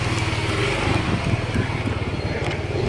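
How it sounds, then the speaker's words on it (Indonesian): Motorcycle being ridden with papa, a loud continuous engine drone with heavy wind rumble, close and steady throughout. "mari kita naik motor sama papa"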